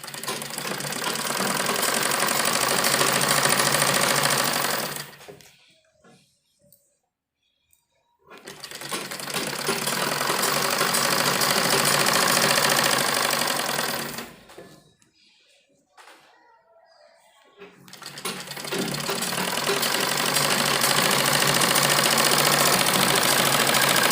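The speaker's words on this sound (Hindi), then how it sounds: "तो हम इन पर दोनों तरफ अपने सिलाई लगा देते हैं।" A sewing machine stitches seams on a baby frock in three long, loud, steady runs of dense whirring, close by, separated by short near-silent pauses.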